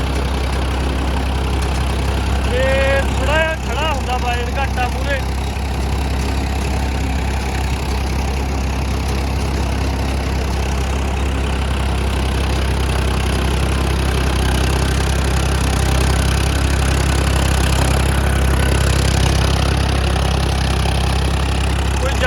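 A Farmtrac 2-speed tractor working a super seeder runs its engine in a steady, close, low drone that holds for the whole stretch, with a brief tonal whine near the start.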